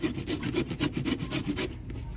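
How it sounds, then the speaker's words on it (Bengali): Papaya is grated by hand on a kitchen grater, giving rhythmic rasping scrapes, about a dozen quick back-and-forth strokes, close and loud, stopping near the end. "এই গ্রেটার দিয়ে পেঁপেটাকে গ্রেট করে নেব।"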